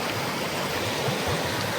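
A forest stream on a summer hike in Evo rushes steadily and loudly nearby, a constant broad wash of flowing water with no voices.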